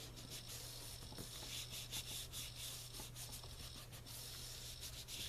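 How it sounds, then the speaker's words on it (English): Watercolor paper, 140 lb Strathmore, rubbed by hand over an inked stamp: a soft, steady scratchy friction with repeated strokes, close and quiet, no talk. "and then you just rub it."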